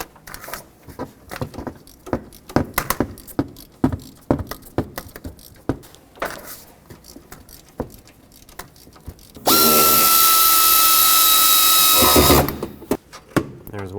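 A 15mm alternator bolt being removed on a Chevrolet Express: rapid ratchet clicks in uneven bursts, then a loud, sustained power-tool whir of about three seconds, followed by more clicking.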